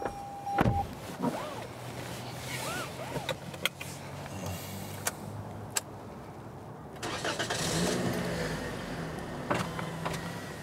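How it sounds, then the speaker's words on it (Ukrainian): A car engine cranks and catches early, then settles into an idle. Power windows whir down, and clicks and small mechanical knocks are heard inside the cabin. It is close and clear, with no talk. "а потім завести машину."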